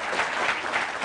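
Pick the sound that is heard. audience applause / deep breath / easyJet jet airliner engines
audience applause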